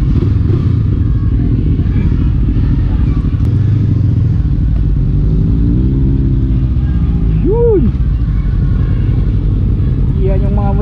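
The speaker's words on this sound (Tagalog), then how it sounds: "Yan, nagpe-prepare na for loading yung mga motor." A group of motorcycles is readied for loading onto a vessel before a Visayas unity ride, their engines rumbling loudly and continuously nearby with a few rising revs toward the end.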